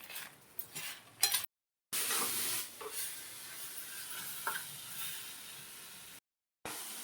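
Gongura leaves cook in a pan while being stirred and mashed, with quiet scraping and a soft sizzle broken by two short silent gaps.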